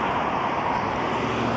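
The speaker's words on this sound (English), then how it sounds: "Traffic." Steady roadside traffic noise with a continuous low rumble and broadband hiss, vehicles passing without pause at moderate loudness and no voices.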